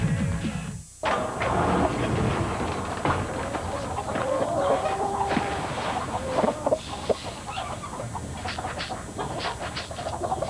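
Chickens cluck and squawk in a TV advertisement, a busy flock sound of overlapping clucks and short calls that carries on steadily and fairly loud, with no talk.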